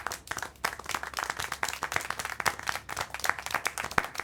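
In the Syberia The World Before video game, a small group applauds with steady, fairly close clapping that runs throughout without voices.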